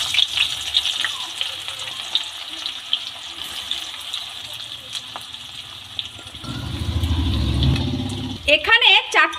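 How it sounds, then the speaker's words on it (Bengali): Chopped onions hit hot oil in a wok, bursting into a loud, steady sizzle for a couple of seconds after a stretch of quieter kitchen noise, ending with a few sharp clatters. "দিয়ে দিচ্ছি এই পেঁয়াজ কুচি।"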